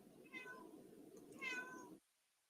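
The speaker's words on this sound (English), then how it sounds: "you guys might be able to hear the cat." A cat wanting to come inside meows twice, faint and a little distant, each call a drawn-out whine, with quiet room noise around it before the sound cuts off.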